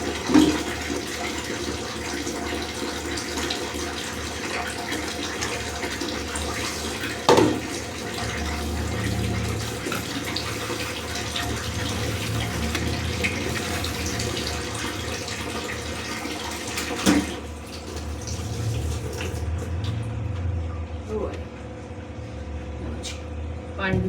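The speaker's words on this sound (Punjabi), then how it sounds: "ਬਾਲਟੀ ਭਰ ਲਈ ਉਹ ਪਾਣੀ ਭਰਿਆ" Tap water pours steadily into a bucket as it fills, a continuous close rush lasting the whole stretch, punctuated by a few knocks, with a voice speaking now and then.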